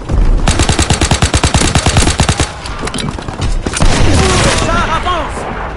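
A Rainbow Six video game battle erupts in rapid, loud machine-gun bursts that give way to heavier booming explosions and scattered shots.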